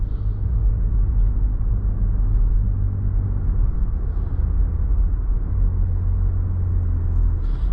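A Lexus RX350 rounds a corner with a steady, loud, low road and engine rumble and a faint whir from inside the cabin, continuous throughout with no talking.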